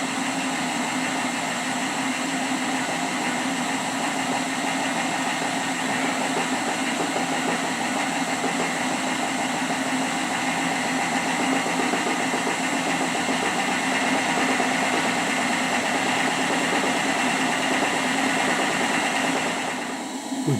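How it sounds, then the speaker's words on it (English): Two small model steam engines run fast together on a kitchen table, a dense continuous whirring hiss with fine rapid mechanical chatter, steady and close throughout, briefly cutting off at the very end. "With both of the engines running at a high speed, the boiler pressure drops slightly."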